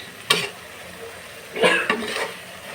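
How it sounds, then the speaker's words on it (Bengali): Malabar spinach with dried fish (chepa shutki) stirred in a pan, a spoon scraping in a few distinct strokes over a faint sizzle, close and moderately loud with no talk. "এইভাবে আপনাকে নেড়ে নেড়ে দাঁড়িয়ে থেকে এটা করতে হবে"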